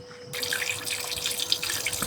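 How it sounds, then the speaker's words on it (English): Grey water draining from a camper van waste tank through a valve opened inside the van, a steady close rush and splash of flowing water that starts abruptly and continues without talk. "we are emptying our grey water and everything, and in this van you have to do it down here"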